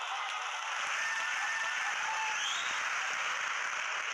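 Faint audience clapping at a motivational talk, a steady wash of many hands applauding at a distance, continuous for a few seconds with no speech.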